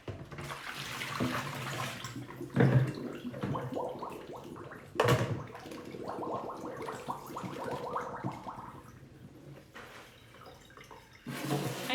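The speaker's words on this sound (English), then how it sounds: "I'm draining black beans" Canned black beans drained in a kitchen sink, water and liquid splashing and running steadily with a few louder gushes, close by, no talking.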